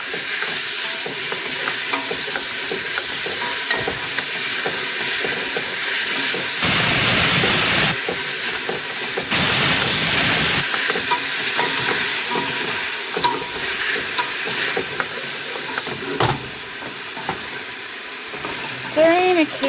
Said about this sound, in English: Stirring occasionally until the vegetables soften.